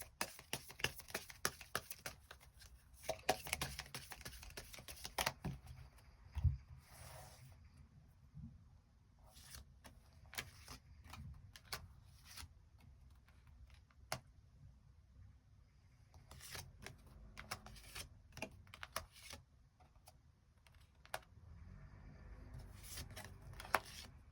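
Tarot cards being shuffled and drawn, heard as soft riffling, flicks and papery slaps in irregular bursts with quiet gaps between, close and faint.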